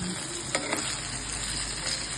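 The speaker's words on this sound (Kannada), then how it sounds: "ಒಂದು 2 minutes ಈ ಥರ ಹಿಂಗೆ ಫ್ರೈ ಮಾಡ್ಕೊಂಡೇವಲ್ಲ ಮುಗ್ದೇ ಹೋಗ್ತದೆ" Ingredients for palak paneer fry in a pan with a steady, close sizzle, broken by a couple of quick stirring clicks early on.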